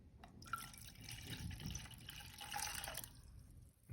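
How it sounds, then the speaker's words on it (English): Water pours into the tank of a voice-controlled humidifier, a steady close trickling and splashing that runs about three seconds before cutting off. "let's add water"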